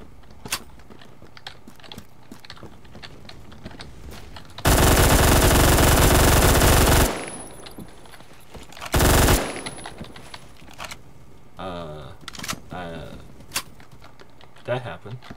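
M231 firing in a video game: a long, loud sustained automatic burst lasting a couple of seconds, then a shorter second burst, amid scattered clicks and game noise, with a voice talking around the shots.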